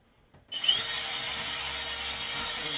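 A DeWalt bit drilling into wood for a sparrow nest box: after a brief quiet moment the drill starts and runs with a steady high whine and grinding, close and loud, with no talking.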